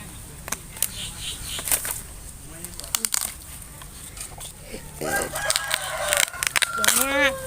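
A rooster crows loudly and close at a backyard chicken coop near the end, with scattered hen clucks and wing flaps earlier, while people talk nearby.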